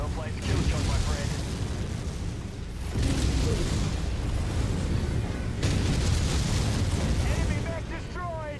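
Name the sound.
enemy mech destroyed with explosion in MechWarrior video game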